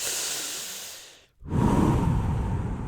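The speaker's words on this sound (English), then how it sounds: "Back to my Wim Hof breathing in." A deep Wim Hof method breath is drawn in, loud and close: a long rushing inhale follows a brief pause, preceded by the tail of an earlier breath, with no talk.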